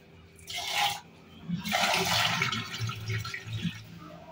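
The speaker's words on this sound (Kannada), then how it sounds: "ನೋಡಿ ಗೈಸ್, ನೀರು ಹಾಕೋಣ, ಹೋಗುತ್ತೆ." Water is poured into a blocked toilet drain, giving two gushing, splashing bursts, a short one followed by a longer churning pour that trails off into gurgles.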